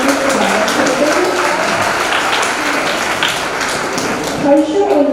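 Audience applause at an annual intercollegiate college fest, a steady broadband wash of clapping held under a host's talk throughout.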